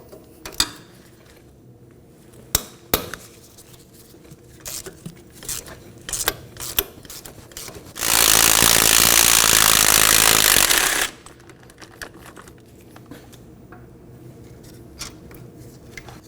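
Mounting bolts on a 2013-2019 Nissan Sentra front steering knuckle are worked loose with tools: sharp metallic clicks and clanks scattered throughout, broken by a loud continuous burst of a power tool for about three seconds in the middle.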